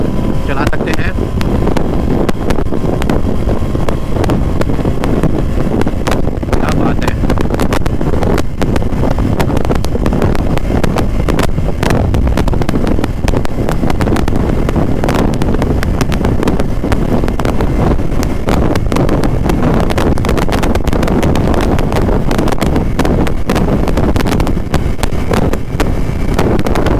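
KTM RC 200 Moto GP Edition motorcycle ridden flat out, a loud, continuous engine roar buried in heavy wind buffeting on the microphone throughout, with a rider's voice faintly mixed in.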